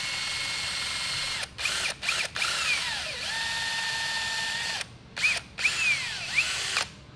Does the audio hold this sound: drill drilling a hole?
yes